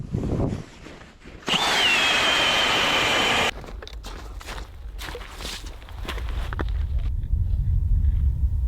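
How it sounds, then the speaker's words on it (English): Power ice auger drilling a hole through lake ice on shallow weed flats in late ice season, a loud steady grinding whir for a couple of seconds, then scraping, knocking and a low rumble as it keeps running nearby. "Should I just drill one right there?"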